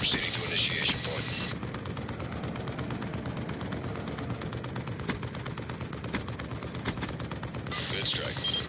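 Gunfire from a VTOL warship in Call of Duty Black Ops 2, sustained rapid bursts over a dense rumbling battle background, with radio-style talk over the shooting.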